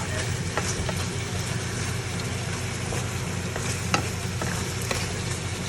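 Chicken curry stirred in a pot, a steady wet sizzle and simmer with scattered soft scrapes and clinks of the spoon, close and continuous, no talking.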